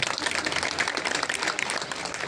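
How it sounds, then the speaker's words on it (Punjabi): A crowd claps at an election campaign rally in Phagwara where Hans Raj Hans campaigns for Vijay Sampla: dense, steady applause from many hands, continuous for over two seconds at moderate distance, with no clear voice over it. "ਤਾੜੀਆਂ ਮਾਰੋ ਜਰਾ ਇਹਨਾਂ ਨੂੰ।"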